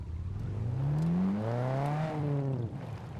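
A vehicle engine labours while trying to climb over a ramp, its whirring pitch rising and straining for a couple of seconds before dropping away, loud and close with no voices.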